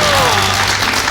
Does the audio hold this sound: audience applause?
yes